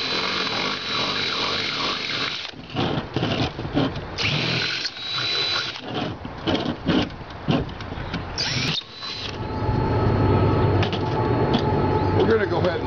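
A power drill fitted with a larger bit bores into metal in repeated bursts, loud and close, with short pauses between runs and a steadier grinding stretch toward the end.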